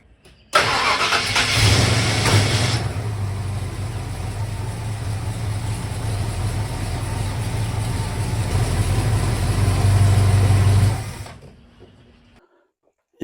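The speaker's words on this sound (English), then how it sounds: "Let's start the engine." A car with a failing fuel pump cranks and catches, then settles into a steady, loud idle for several seconds before shutting off into silence.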